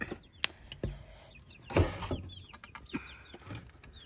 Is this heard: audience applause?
no